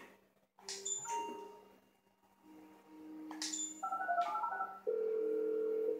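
Phone dialing in GTA V: a series of synthetic electronic tones, short chirps followed by steady dial-like beeps that grow louder, with no talk over them.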